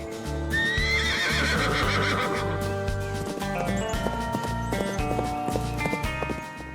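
Wild feral horses of the American West whinny loudly in a long, rising neigh near the start, with steady background music running beneath and a few fainter calls later.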